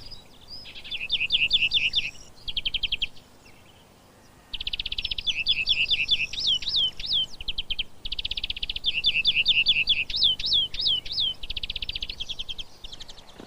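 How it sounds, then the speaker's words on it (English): A greenfinch sings in three long bursts of rapid, high twittering trills close by, with short gaps between phrases over quiet background. "The greenfinch's song can also be heard sometimes during flight."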